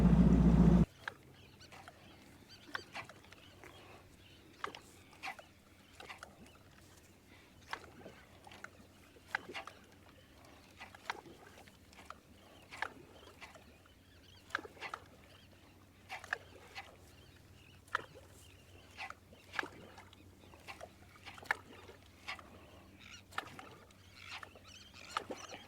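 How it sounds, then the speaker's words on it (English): A fishing boat idles around in shallow Louisiana water, a low steady engine hum running throughout under frequent light taps and knocks, with no talk. "We're going to idle around for a second to see if we see one move around or something."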